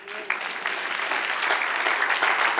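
A room full of people at a church Bible class claps steadily, loud and continuous for a couple of seconds.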